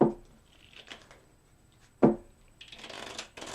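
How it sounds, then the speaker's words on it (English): A deck of tarot cards being riffled and shuffled by hand, crisp papery bursts with sharp snaps at the start and midway, then a long rapid flutter, close up with no talking. "I have shuffled these really good already, but I'm going to do the 3 more, and then I'm going to do a 3-way cut on these cards."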